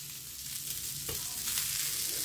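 Rava-coated ladyfish fries in hot oil, a steady close hiss and sizzle with faint crackle throughout, no voices.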